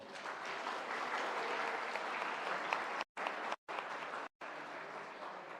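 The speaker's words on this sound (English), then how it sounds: "Let's give a round of applause for everyone's hard working and dedication." An auditorium audience at a sustainability AI pitching competition gives a sustained round of applause for the participants, dense and even, with brief dropouts near the end.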